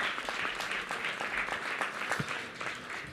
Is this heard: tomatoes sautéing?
no